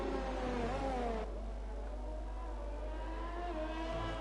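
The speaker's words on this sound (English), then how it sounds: "just so I'm not being deafened by the V6 engines" F1 cars with V6 engines racing in an F1 video game at Belgium, a steady loud engine whine with a shifting pitch, one car's tone dropping away partway through as another continues.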